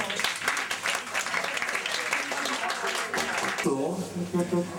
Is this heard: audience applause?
yes